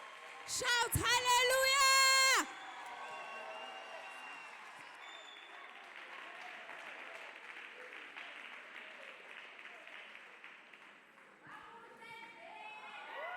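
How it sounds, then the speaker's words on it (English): Church congregation clapping hands together in steady sustained applause after a burst of loud singing or shouting, the clapping continuing evenly with some voices over it. "Let us clap hands beautifully for Jesus Christ."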